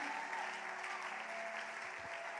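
A church congregation applauds, a faint, steady wash of many hands clapping together that holds evenly throughout, with a low hum underneath and no clear voices.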